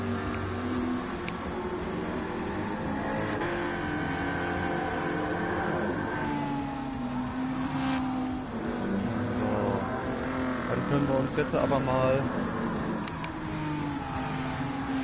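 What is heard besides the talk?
race car engines in video game Gran Turismo 7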